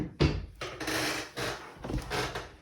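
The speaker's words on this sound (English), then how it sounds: "my chair's a little squeaky" A squeaky chair creaks and shifts in several close, uneven bursts, with a sharp knock at the start followed by rubbing, grinding movements and brief pauses between them.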